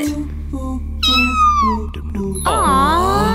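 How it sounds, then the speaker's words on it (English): A little cartoon cat meows several times, the calls rising and falling in clear, close, drawn-out cries with short pauses between them. "Hey, Mommy, look at that! At that, at that! It is a little cat!"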